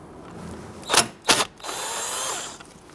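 Power tool loosening a 10mm bolt holding the AC lines at the back passenger side of the radiator on a 2011-2017 Nissan Quest; two short loud bursts are followed by a steadier, longer whirring run, close up with no talk.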